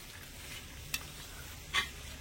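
Vegetables with potato stirred together in a pan for a kachori filling, giving a faint low sizzle and two brief scraping knocks against the pan, no one talking.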